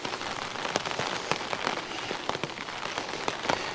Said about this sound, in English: relentless rain